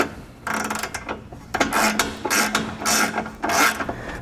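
Bolts being tightened on the bumper core of a 2015 Smart fortwo during a base plate install, heard as close, loud repeated ratcheting bursts with brief pauses between them.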